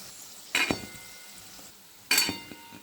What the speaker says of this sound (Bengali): এই দিকগুলো শুধু এবার উল্টে পাল্টে একটু গোল্ডেন ব্রাউন করে ভেজে নেবো।